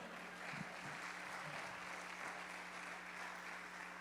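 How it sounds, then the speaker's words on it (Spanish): A church congregation applauding, a steady, even wash of clapping from a crowd heard at a distance and quite faint, with a low hum beneath it. "Dale un aplauso al Señor."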